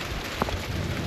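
Steady rain falls outdoors as an even, close hiss with no break, plus one brief, slightly louder drop or patter partway through.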